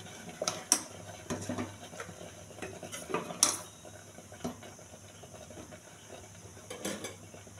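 Spoon scraping and clinking against a pot while millet pongal is served into a dish, a series of light close metallic taps and scrapes with quieter gaps between them.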